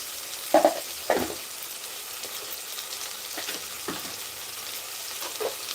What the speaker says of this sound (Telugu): ఇది కూడా మనము కాస్త పచ్చి వాసన పోయేంత వరకు వేయించుకోవాలి